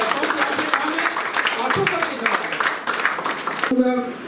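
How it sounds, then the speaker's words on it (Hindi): Audience at a Gorakhpur gathering breaking into loud, dense clapping that runs steadily for several seconds before cutting off abruptly near the end. "आपकी एक बार जोरदार ताली"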